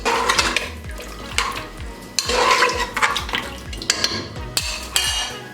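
A spoon scrapes and clinks inside a pot while mutton chops with water, salt and ginger-garlic paste are mixed, repeated metallic strokes and wet stirring up close, no talking.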